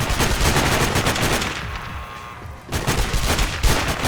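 Gunfire from a sniper rifle in the video game Sniper Ghost Warrior: loud, dense bursts of shots and echoes, a quieter lull in the middle, then more loud shots.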